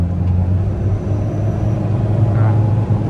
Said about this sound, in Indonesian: Nah, turbonya masih kedengeran ya, suaranya nendang, ganteng, cakep, halus sekali, mantap.